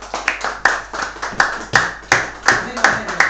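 A church congregation clapping in a fast, steady rhythm, sharp close hand claps repeating roughly every third of a second, with voices faintly underneath.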